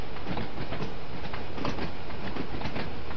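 A train on the Isle of Wight line in Train Sim World 2 rumbles steadily and close throughout, with soft repeated clacks over the wheel noise and no voices.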